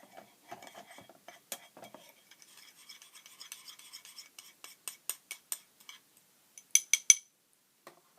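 Spoon stirring white sugar with a drizzle of olive oil in a small bowl: soft gritty scraping and light clinks, faint and close, growing into sharper ticks of utensil against the dish toward the end.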